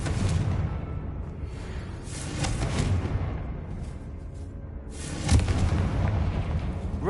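A Confringo fire-blast spell explodes in Hogwarts Legacy, with rumbling blasts and deep booms rolling over one another. A sharper burst lands near the end, set in a dim catacomb atmosphere with no voices.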